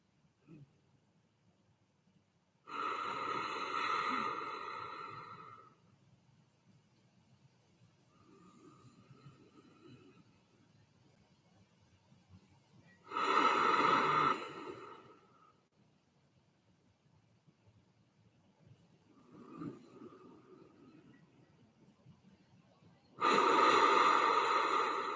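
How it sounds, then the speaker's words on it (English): Ujjayi yoga breathing through a constricted throat, heard as three loud, close, rasping breaths spaced about ten seconds apart, with softer breaths between them and no speech. "In yoga, we call this Ujjayi breathing or rhythmic breathing, where we bring an audible sound to it."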